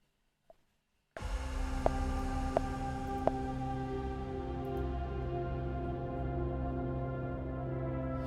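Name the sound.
evolving synth texture, Aggression Designer from Oblivion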